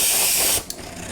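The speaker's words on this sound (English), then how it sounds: "we can just spray over it" Airbrush spraying paint over bright white writing, a steady close hiss of air and paint that cuts off sharply after about half a second, followed by a faint click.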